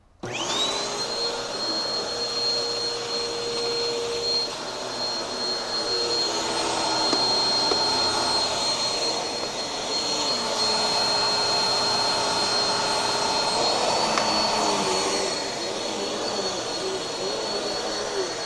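A Bissell 2252 CleanView Swivel Pet upright vacuum cleaner runs steadily at close range, a loud continuous whine and airy roar with a slight shift in pitch partway through as its setting is changed, no voices.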